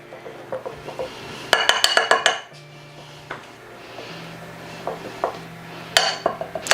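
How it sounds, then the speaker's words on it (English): Powdered sugar whisked in a bowl, heard as bursts of quick rhythmic metallic clinks of the whisk against the bowl, close and fairly loud, with short pauses between flurries. "I'm just going to whisk up this powdered sugar a little bit, loosen it up"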